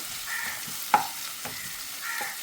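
Onions sauté in a pan for chicken curry, a soft, continuous sizzle with a single sharp stirring tap and faint scraping strokes.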